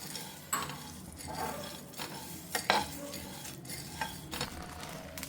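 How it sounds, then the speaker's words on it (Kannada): Flax seeds are dry roasted on a large tawa, a utensil scraping and stirring in irregular strokes with soft rattling of seeds, close and fairly quiet, with no talking. "ಇದ್ರ ಜೊತೆ ಫ್ಲ್ಯಾಕ್ಸ್ ಸೀಡ್ಸು ಹಾಕ್ಬಿಡ್ತೀನಿ. ಇದು ಡ್ರೈ ರೋಸ್ಟೇ."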